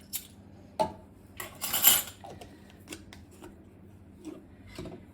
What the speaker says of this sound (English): And we give it a whisk.